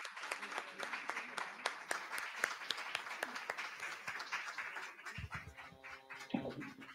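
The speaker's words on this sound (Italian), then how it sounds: "non so se ti sia arrivato l'applauso dalla sala" Audience applause fills a hall after a talk at a cultural event, dense steady clapping throughout with a voice briefly speaking near the end.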